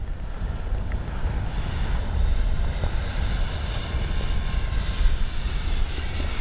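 A radio-controlled F4U Corsair model warbird makes a slow flyby with its landing flaps down, giving a loud, continuous propeller-engine drone that holds steady overhead outdoors, with no voices.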